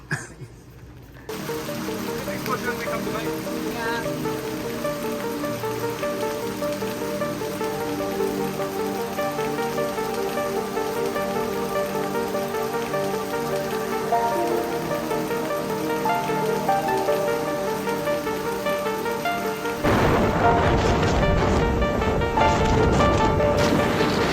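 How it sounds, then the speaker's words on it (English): Steady rain patters on a campsite at Pinery Provincial Park during a storm, a dense continuous hiss that begins after a brief quiet moment and swells louder near the end, with no talk over it. "And now it's starting to rain."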